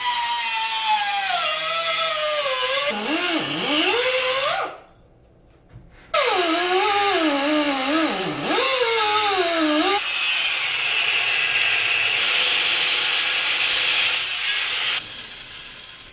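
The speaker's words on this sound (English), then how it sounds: "Now all these welds will clean up with a flap disc really nicely." Flap disc grinding down welds on a Yamaha XS650 motorcycle frame: a loud, continuous abrasive rasp with rising and falling pitch as the disc bites, one short pause mid-way, then steady grinding to the end, no talk.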